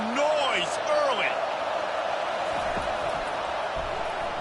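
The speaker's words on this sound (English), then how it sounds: "This crowd bringing the energy and noise early." A football stadium crowd at a Houston at Michigan game gives a loud, continuous roar, with whistles and shouts rising through it.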